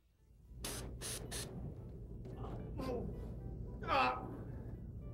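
Several short hissing bursts of OC pepper spray aerosol, followed by a gasping, coughing voice reacting close by.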